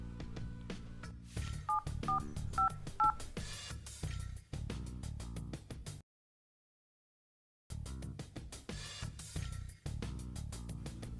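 Telephone keypad tones beep in a quick sequence of short evenly spaced presses, with other clattering sounds around them and a silent gap partway through.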